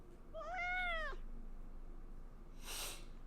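A cat meows in the video game Life is Strange: Double Exposure, one clear, drawn-out meow, followed after a pause by a short breathy hiss-like burst, set against quiet background ambience.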